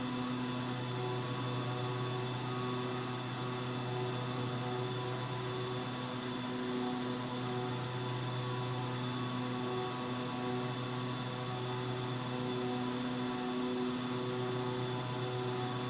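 Cabin drone of a Beechcraft 1900D turboprop in flight between Frederick, Maryland and Washington DC, with steady engine and propeller tones holding loud and unbroken throughout, no voices.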